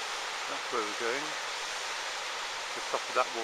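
Steady broadband rush of a waterfall in the hills above Loch Torridon in the Scottish Highlands, constant and fairly near, with a voice talking briefly over it at the start and again near the end.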